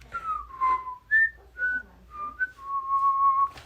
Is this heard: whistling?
yes